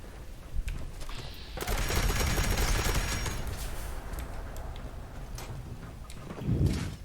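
Defensive turrets firing in Fallout 76 during a PvP fight at a workshop: an early shot or two, then a dense, sustained volley of rapid gunfire that stays loud and close for several seconds before thinning out.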